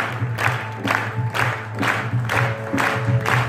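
An audience at a Khatu Shyam ekadashi kirtan claps in a steady rhythmic beat, roughly two claps per second, loud and full with no voices on top.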